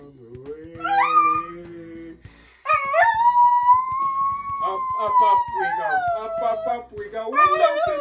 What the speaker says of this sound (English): This is Neolo, singing dog.